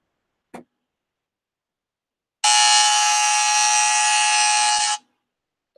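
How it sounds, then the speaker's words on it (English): A Royal Rumble countdown buzzer blares once, a loud, harsh, sustained electronic buzz lasting about two and a half seconds, with brief clicks before and after. "Look up Royal Rumble buzzer noise."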